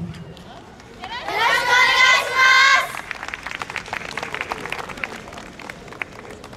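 Audience applause at the Ashikaga YOSAKOI festival: dense crackling clapping continues for several seconds after a loud, tonal voice-like passage, spread evenly at a moderate distance.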